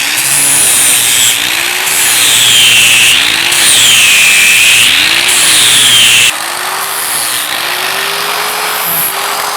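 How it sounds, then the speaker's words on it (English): A loud angle grinder with a flat sanding disc whines against metal continuously, its pitch rising and falling in repeated sweeps as it bites and eases off. "I like these flat sanding discs. Man, they can move material quick"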